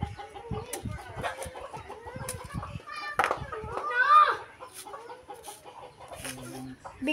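Chickens cluck in a backyard, with repeated close clucks and short calls running under people and children talking nearby.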